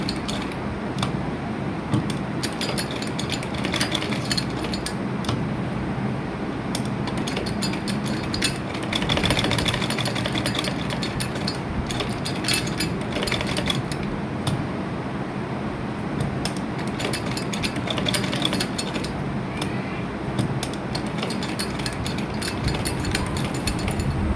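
A sewing machine runs slowly, stitching around a curve along stiff buckram. It gives a steady, close mechanical whir with a fine ticking rattle that continues throughout, with no talking.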